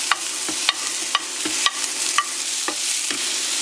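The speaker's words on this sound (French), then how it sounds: "dans une poêle, je mets l'huile à chauffer, ensuite je viens y verser les oignons avec les poivrons." Onions and peppers fry in hot oil in a pan for a homemade pizza. A steady sizzle runs throughout, broken by regular scraping stirs about every half second. There is no talking.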